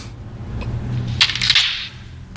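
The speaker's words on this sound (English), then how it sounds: "it's the front door." A door opens with a brief latch click and a soft swish, heard once, close by over a low background hum.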